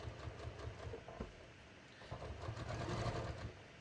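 A sewing machine stitches denim while jeans are being assembled, a faint, steady mechanical whirring hum with a rhythmic clatter, no talking.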